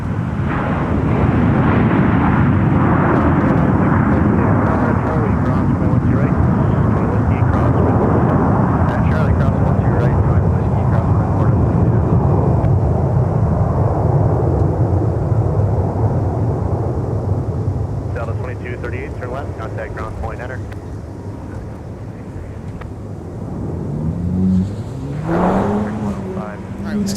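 Airbus A321 airliner at MSP airport producing a loud, sustained broadband jet roar that slowly fades, with engine whine rising near the end.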